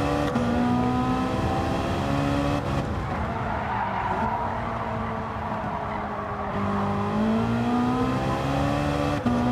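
A Ferrari's engine howls at full throttle in Gran Turismo 7, with tires squealing as the car slides, the pitch rising and falling through gear changes in a loud, continuous drone.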